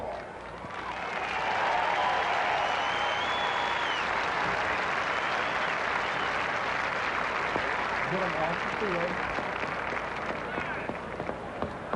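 A college football homecoming crowd of about 20,000 at Allen Paulson Stadium applauds and cheers, a broad roaring wash swelling in after the first second and holding steady, with an announcer talking over it.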